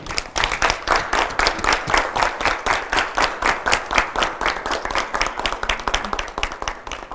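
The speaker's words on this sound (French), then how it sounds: "Nous allons applaudir et l'accueillir." A studio audience on a French-language youth talk show claps to welcome a guest onto the set, a steady, fairly loud run of individual handclaps with a brisk rhythm throughout, with no voices over it.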